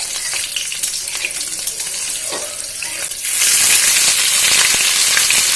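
Dried red chillies, bay leaf, five-spice seeds and green chillies temper in hot oil for a vegetable curry, giving a close crackling sizzle that bursts into a louder, fuller hiss partway through.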